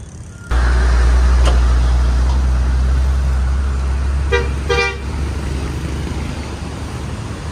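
A bus on a busy road exiting the Mojokerto toll road starts up loudly, its engine rumbling steadily through heavy traffic, with a short double horn toot midway.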